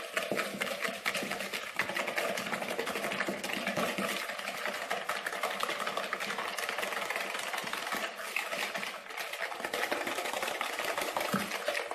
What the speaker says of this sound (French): je vais venir lui incorporer mon sucre en poudre et je vais mélanger afin que la préparation blanchisse